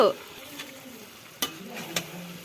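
Washed chicken pieces in curry masala fry in a pan with a soft, low sizzle, while two or three sharp scrapes of a spoon stirring the mixture stand out over the quiet hiss.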